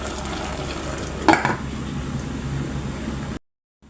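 Milkfish sizzles steadily in a hot pan of vegetable or olive oil, a continuous frying hiss with a brief scrape or clink partway through before cutting to silence.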